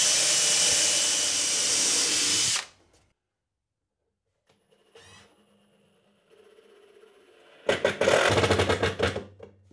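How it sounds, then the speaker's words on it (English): A drill bores a pilot hole and drives screws into wood while wide stock supports are fitted to a miter saw station. A loud, sustained whir cuts off into silence, then faint handling noise, then a choppy burst of screw driving. "I'm gonna drill a pilot hole first and then drive the screws in."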